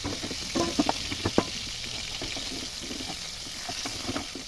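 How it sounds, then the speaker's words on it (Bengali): Onions fry in a pan, a soft, steady sizzle with a few light clicks and stirring scrapes early on, fairly quiet and without speech. "পেঁয়াজটা সুন্দর ভাজা ভাজা হয়ে গেছে"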